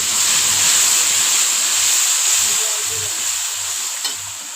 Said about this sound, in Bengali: মশলাটার মধ্যে একটু জল অ্যাড করে দেবো।